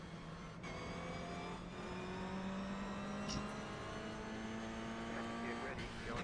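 Subaru race car with a flat engine and straight-cut gears in the iRacing sim, a steady droning engine note rising slowly in pitch, continuous and close under a faint background of talk.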